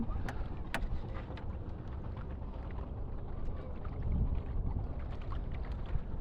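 A river boat under sail glides along a river in Barishal, giving a faint, steady rush of wind and moving water with a few light knocks and no voices.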